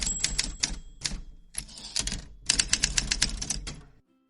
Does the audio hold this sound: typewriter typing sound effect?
yes